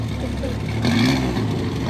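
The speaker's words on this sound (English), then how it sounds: "Good sounding little car." A small vintage Volvo engine revs briefly at an outdoor car picnic, a short rise in pitch and loudness lasting about a second amid background chatter and general crowd noise.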